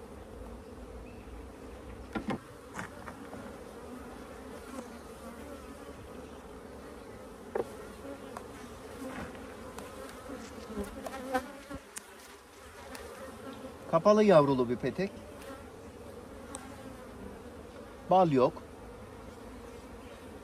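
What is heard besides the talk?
honeybees and drones buzzing on a hive comb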